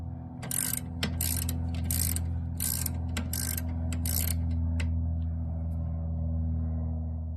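Hand wrench loosening the brake caliper bolts on a Chevy Equinox, giving a burst of rapid ratcheting clicks in the first half. The clicks come in short bursts, then fade out under a steady low hum.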